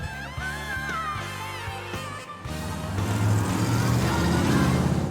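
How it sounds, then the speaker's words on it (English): Flathead engine of an Allard K-2 sports car gives a deep, steady rumble that swells after a brief dip, layered with bright musical tones early on. "Man, nothing sounds like a flathead. Rumble, rumble, rumble."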